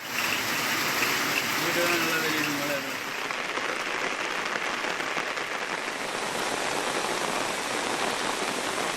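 Heavy rain pours down during a Tamil Nadu downpour, a dense, loud, continuous hiss of drops hitting surfaces. A faint voice murmurs underneath early on.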